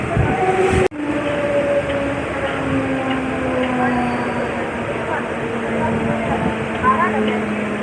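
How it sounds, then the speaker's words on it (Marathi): Navi Mumbai local train pulls into Nhava Sheva station with a steady rumble, wheel squeal and a sharp click at the start, heard from on board under someone talking throughout. "आता न्हावेशेवा स्टेशनला एंटर करतो आपण."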